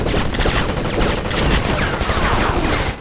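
Rapid gunfire in a PS2 first-person shooter demo, dense overlapping shots and bursts filling the whole stretch at steady loud volume with explosive game effects, no talking.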